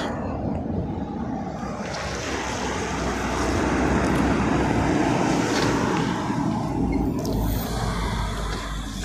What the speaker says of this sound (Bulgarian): Ето, почти пристига дрона.